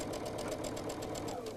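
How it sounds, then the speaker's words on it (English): Sewing machine stitching through quilting fabric, a fast steady mechanical chatter of the needle running close and even, with no talking. "we'll let the machine stitch on and then onto our block"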